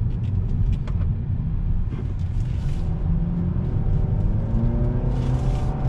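A 2020 Nissan Sentra compact car drives on a road under throttle, its engine and tyre noise forming a steady, close rumble inside the cabin with a rising tone as it accelerates.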